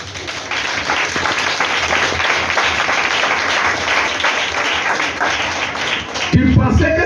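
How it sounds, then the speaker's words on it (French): A church congregation applauding to acclaim Jesus during a sermon: dense, continuous clapping and cheering crowd noise filling the space steadily for several seconds, with a brief shift in sound near the end. "Dis Amen. Et acclame Jésus."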